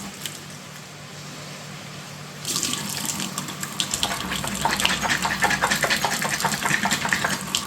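Tap water gushes into a kitchen sink over noodles being drained, starting as a low hum then rising into a loud, splashing stream that grows more turbulent and rhythmic toward the end.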